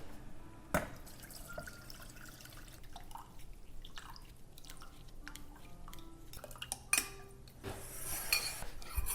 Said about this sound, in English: So this turmeric broth has been sitting for about 30 minutes now. I'm going to strain it.